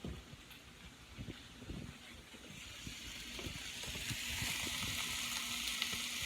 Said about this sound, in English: while that's kind of sauteing down